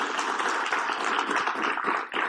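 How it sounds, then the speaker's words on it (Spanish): Applause from an audience at a church gathering as named people stand to be recognized, a dense, steady wash of many hands clapping that fills the whole moment without letup. "Un aplauso."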